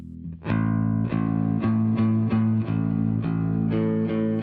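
A distorted, effected bass guitar plays a steady line of repeated notes with a washy, reverberant tail, loud and continuous throughout.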